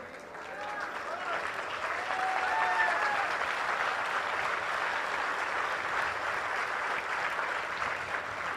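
Sustained applause from a gathered audience fills a religious birthday celebration honouring a revered spiritual leader's seventy-second birthday, dense and continuous throughout, with a voice briefly audible beneath the clapping.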